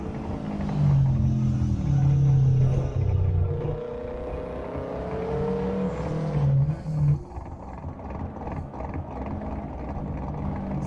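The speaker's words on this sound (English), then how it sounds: "I'm thinking there's a car idling in the background." A Subaru Impreza races in a driving video game replay, its engine giving a continuous rumbling drone that shifts in pitch as it revs, with no talking.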